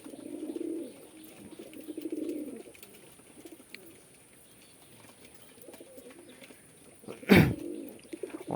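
Pigeons on a home farm coo in soft, low bursts, two clear phrases near the start and fainter coos later, with a sudden brief clatter near the end.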